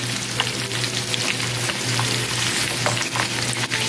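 Onion, garlic and dried chili frying in a pan for adobong balunbalunan, a loud, dense, continuous sizzle with faint crackles and a steady low hum underneath.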